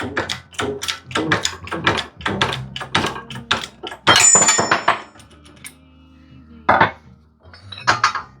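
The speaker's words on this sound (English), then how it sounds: "Because I might need this socket one day. Better get it out of there." A metal socket pulled out from among loose metal tools during a Peugeot 206 race car rear-end build, giving a close, busy run of clanks, rattles and clinks, with a brief ringing tone partway through.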